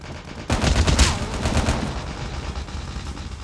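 Gunfire from a gun in the mobile shooter Call of Duty: Mobile, a loud rapid burst of shots that rings on into a fading tail.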